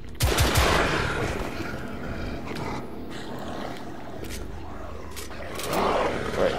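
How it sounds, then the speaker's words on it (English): Gunfire in The Order: 1886, set in a Mayfair Underground Station, with a couple of sharp shots near the start and loud, dense game-action noise continuing throughout. "only managing to rattle out a couple of shots before they come back"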